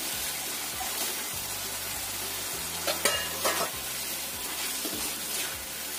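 Chicken pieces sizzle and fry in a pan of cooked spice paste with a steady loud hiss, while a spoon stirs and scrapes through the mixture at intervals.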